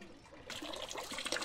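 Water pours into a container at a village home, a faint steady trickle and splash that starts after a short quiet moment.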